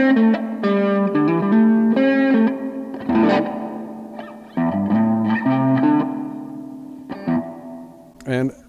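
An electric guitar plays through a cheap digital spring reverb pedal, with plucked notes and chords ringing out in lingering, splashy tails between short pauses.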